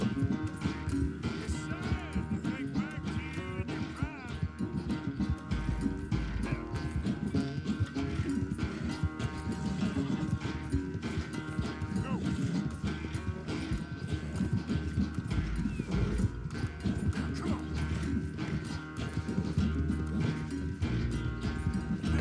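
Horse hooves clip-clopping at a quick, steady gallop during a race in Red Dead Redemption 2, continuous and close, with game music and someone talking over it.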